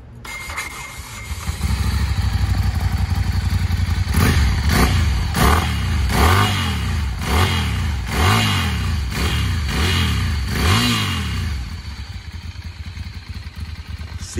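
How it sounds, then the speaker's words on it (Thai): Ducati 796 S2R motorcycle engine idling, then revved repeatedly in a steady series of about eight rising and falling blips, loud and close, settling back to idle. "เดี๋ยวฟังเสียงเครื่องยนต์คันแรกครับ"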